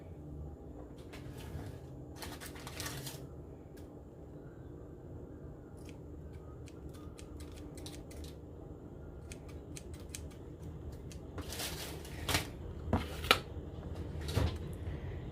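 Scissors snip through brown ribbon for a Thanksgiving table decoration, a few quick, faint cuts heard in short bursts against a quiet room, with some louder handling clicks near the end.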